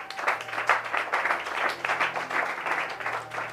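A church congregation applauding after a Bible teaching, a steady dense wash of clapping that holds throughout with no voices over it.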